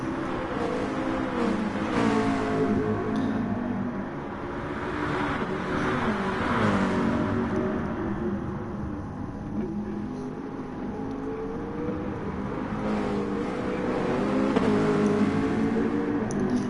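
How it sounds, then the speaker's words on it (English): Race car engines roar in Gran Turismo Sport during a Group B race at the Alsace Village circuit, a steady loud drone that rises and falls as the cars accelerate and shift, with no voices over it. "I just love the sound of these cars"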